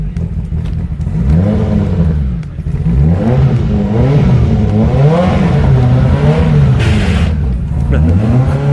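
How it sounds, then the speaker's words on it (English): Ford RS200 rally car at a motorsport festival at Lydden, its engine revving repeatedly in rising and falling sweeps, loud and close, with people talking nearby underneath. "RS200 revving up."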